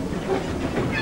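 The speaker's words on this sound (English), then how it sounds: "Bert followed not long after, dragging his long train off and onto the cement works" A model train hauls a long rake of wagons onto the cement works, giving a continuous hissing rumble with faint rhythmic clatter, steady and fairly loud throughout without talk.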